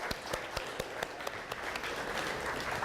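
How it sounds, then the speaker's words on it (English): A lecture audience applauds a towel-folding robot during an artificial intelligence talk, with a few loud, distinct claps leading into a softer, steady patter of applause. "I think a round of applause for the robot."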